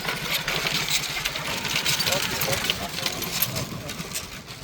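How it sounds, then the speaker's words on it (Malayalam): A motorcycle engine runs steadily and fairly close on a village path in Gunupur district, Odisha, its mid-pitched drone continuous under background voices and outdoor noise. "ബൈക്ക് ഇതുവഴിയാണ് കടന്നു പോകുന്നത്"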